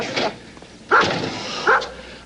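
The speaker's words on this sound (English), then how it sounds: "there's that big slobbery dog from next door" A big dog next door gives three short bursts of barking mixed with high whimpers and yips, fairly close and loud, with quiet gaps in between.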